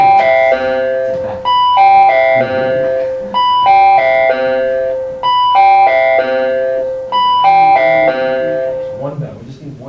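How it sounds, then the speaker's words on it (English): An electronic bell or chime plays a repeating melodic pattern over and over for about ten seconds, loud and bright, while a voice speaks briefly over it during a math test review. "But no, we gotta ring bells for a minute."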